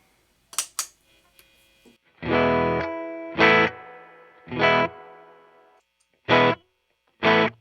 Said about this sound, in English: This is the amp reverb.